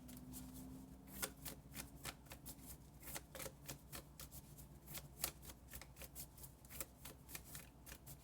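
Tarot and oracle cards being shuffled and drawn at close range, a quiet steady run of crisp riffling snaps and flicks over about eight seconds, with no talking.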